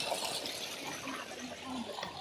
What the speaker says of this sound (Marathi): हे बघा कसं चाललंय पाणी